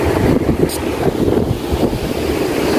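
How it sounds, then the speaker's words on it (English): Strong wind gusts outdoors around a date palm and olive plantation, producing a loud, continuous rumbling buffet against the microphone with no speech. "Sorry for my background. It's so windy."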